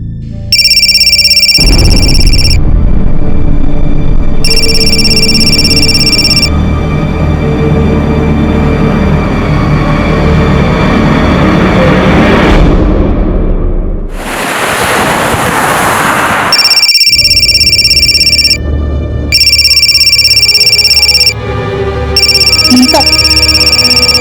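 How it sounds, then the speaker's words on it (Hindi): A telephone rings in repeated electronic bursts with pauses between them, playing over a drama scene with music and background sound, loud and close. "आपका फोन बज रहा है।"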